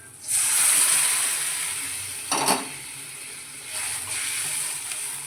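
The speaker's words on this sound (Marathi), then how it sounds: "आता याच्यामध्ये आपलं मिठातलं जे सूप बनवलेलं आहे ना ते ओतून घ्यायचं" Soup made with salt pours into a pan of chicken curry with a steady, close hissing splash, then a brief clatter and a second softer pour.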